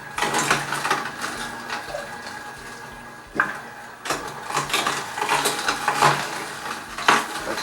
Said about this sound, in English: This one's really actually grabbing that whole carrot and crushing it.